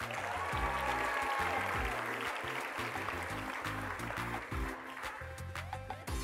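Audience applause fills the space at a church family day service, a sustained dense clapping wash with some cheering throughout, loud and steady with a slight dip near the end.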